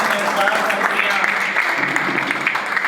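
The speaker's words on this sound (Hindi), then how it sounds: "तो तालियां थोड़ी सी ज्यादा बजा दें।" Applause from an audience at a Hindi poetry recital during a memorial award ceremony, a steady dense wash of clapping that fills the short stretch without letting up.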